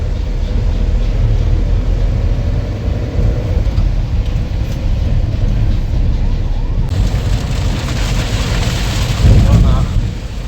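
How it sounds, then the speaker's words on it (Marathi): Steady, dense rain roars continuously, a broad wash of noise that thickens in the second half, with a voice speaking briefly over it. "एवढा पाऊस चालू आहे"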